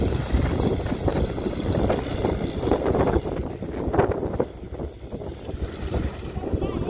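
An airplane at the Wings Over Whiteside 2022 air show drones steadily with a rumbling engine, fairly close, while people talk over it.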